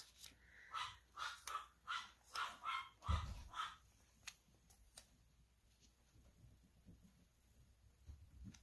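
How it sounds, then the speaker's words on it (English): Household dogs bark in a quick run of about eight sharp yaps over the first few seconds, somewhat distant, then fall quiet apart from faint room noise and a soft thump. "That's my dogs."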